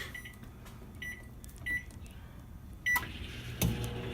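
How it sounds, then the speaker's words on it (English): A high-power home microwave oven hums steadily, with a few short beeps and light knocks of the door or cupboard nearby, close and fairly quiet. "Adam's gonna put it in for 1 minute and 30 seconds into the microwave on high"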